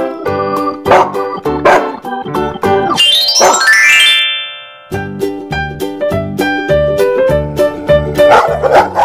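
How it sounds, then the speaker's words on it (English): Dog barking amid an upbeat music track from a children's animal-sounds cartoon, with repeated sharp barks, a rising whine-like sweep in the middle, then more barking over the tune. "Dog."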